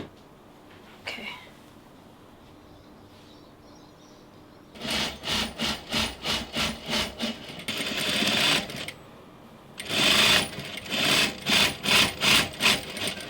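A sewing machine stitches stretch fabric up close in loud, rapid rhythmic bursts, with two separate runs of stitching broken by short pauses and a quiet stretch before the first run.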